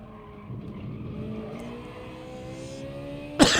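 A racing car engine in Gran Turismo Sport drones with rising revs for several seconds, with a Peugeot rival attacking, ending in a sharp, loud tire skid burst near the end.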